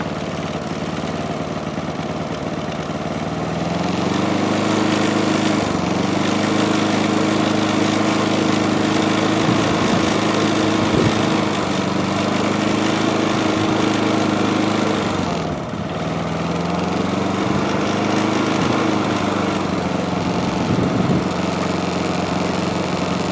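A Honda EU20i inverter generator with a burned stator, running on natural gas, drones loud and steady at close range, its engine pitch dipping briefly twice before settling again.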